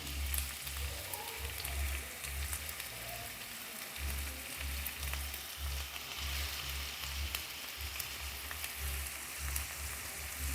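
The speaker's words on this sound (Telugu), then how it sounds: "ఈ ఆయిల్లోకి మనం కట్ చేసిన ఉల్లిపాయలు అయితే వేసుకుందాము." Three large chopped onions fry in hot oil in a pan for an egg curry, giving a steady, even sizzle and crackle throughout, with no voices.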